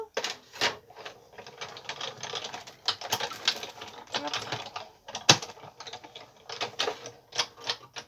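A die-cutting machine cuts a small piece of paper, giving close, steady mechanical clicking and ratcheting with sharp taps and one louder snap near the middle, with no talk.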